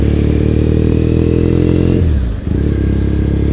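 A scooter rides through the streets of Tokyo near Azabu Juban, its engine a loud, steady drone that dips briefly as the revs drop, then picks up again.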